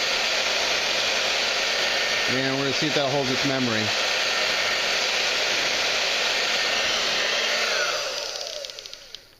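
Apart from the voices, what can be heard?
hair dryer blowing on cool setting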